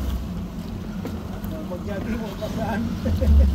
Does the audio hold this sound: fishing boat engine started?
yes